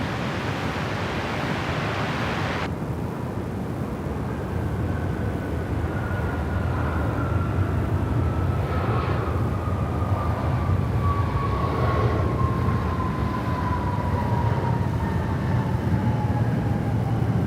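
Qantas Boeing 777-200LR jet on the runway at Sydney Airport, a steady powerful engine roar heard from a distance, with a whining tone that slowly falls in pitch as it passes.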